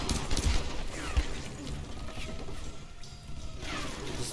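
Rapid bursts of gunfire in the Tomb Raider video game keep going for the whole stretch, with crashes and mechanical clatter mixed in among the shots.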